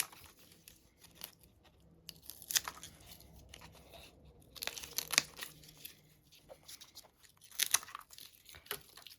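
Scissors cut tape into squares close by, giving quiet crinkling and rustling with a few sharp snips and crisp tearing bursts spaced a few seconds apart, with no talking.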